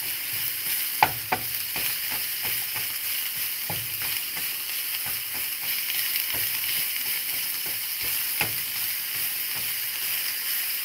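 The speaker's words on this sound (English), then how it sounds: "you just break all that fucking meat down, make sure it's all good and browned" Ground meat browning and being stirred in a hot pan while making eggrolls, a steady sizzle with a series of sharp scraping clicks from the utensil throughout, no talking.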